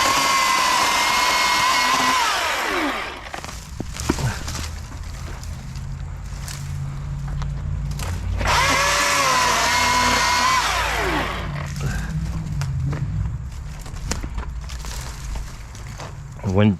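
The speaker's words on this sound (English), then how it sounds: "The Milwaukee chainsaw is approved by me." Milwaukee battery chainsaw running on a 2.0 battery while cutting a shrub, motor whine rising in two long loud bursts with a quieter idle between them, heard up close.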